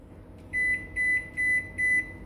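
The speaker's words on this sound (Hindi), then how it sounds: "नॉर्मल हीट हो रहा है माइक्रोवेव," Four evenly spaced electronic beeps ring out from a microwave oven over a faint steady hum.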